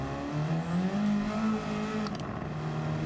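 Race car engine in Gran Turismo 7, revving steadily and climbing in pitch, then dropping sharply on an early shift to third gear at corner exit before pulling again, loud and continuous.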